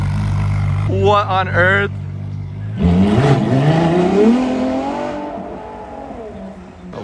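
A Ferrari LaFerrari coupe on a street in Vancouver: a quick loud engine blip, then a long, rising, high-pitched acceleration pull that fades as it passes, with a voice exclaiming early on.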